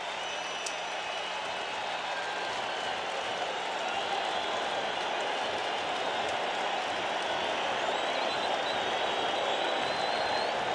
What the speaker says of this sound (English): And the crowd will get even louder